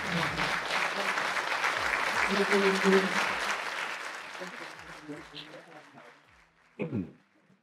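An indoor audience at a business talk about success in Africa gives a sustained ovation, dense clapping that swells and then tapers off over several seconds before a brief final burst.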